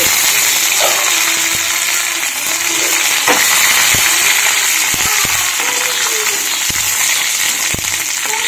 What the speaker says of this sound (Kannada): ಈಗ ಇದು 2 ಮೀನನ್ನ ಫ್ರೈ ಮಾಡಬೇಕು.